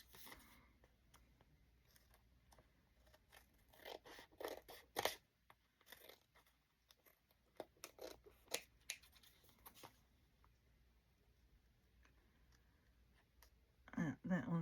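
Scissors snip and trim paper corners while a floral journal is assembled, giving scattered sharp clicks and crunches close to the mic, with quiet gaps and some handling noise between cuts.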